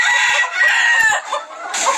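An eight-year-old rooster crows loudly and close by with a long, strained call, followed by clucking and scattered farmyard noises.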